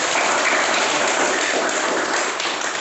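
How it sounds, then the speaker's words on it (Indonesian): A classroom of students claps together in a dense, steady burst of applause, close and loud for a few seconds with no talking. "kita berikan tepuk tangan."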